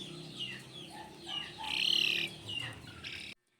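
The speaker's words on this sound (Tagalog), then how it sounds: "Maliit pa nga itong cockerel na ito pero matapang na." A young cockerel in a gamefowl pen gives a few short, rising calls and clucks, fairly close and moderately loud, with a sharper squawk near the middle before the sound cuts off.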